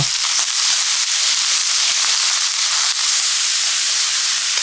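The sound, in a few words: pork neck stir-frying in oil in a pan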